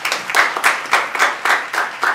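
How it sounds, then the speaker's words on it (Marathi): An audience claps in a steady rhythmic beat, about eight evenly spaced bursts of clapping in quick succession, loud and close. "जोरदार टाळ्या झाल्या पाहिजे"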